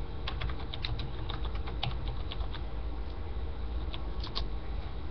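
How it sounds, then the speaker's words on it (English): Rapid typing on a computer keyboard, close and steady with quick irregular key clicks, no talking. "let's go typing in."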